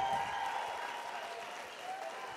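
Audience applause at a real estate event, a brief, fairly loud wash of clapping that fades slightly toward the end.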